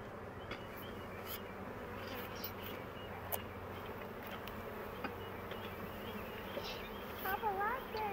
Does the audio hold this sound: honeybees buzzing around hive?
yes